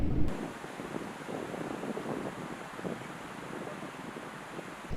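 Sea waves crash and wash continuously on the shore in strong coastal wind, a broad rushing roar with gusty buffeting against the microphone, fairly faint and steady, with no voices.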